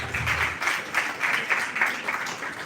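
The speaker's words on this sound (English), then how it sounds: "big round of applause" Audience applause at the close of a university program in Pune, a sustained and moderately loud patter of many hands clapping in uneven waves.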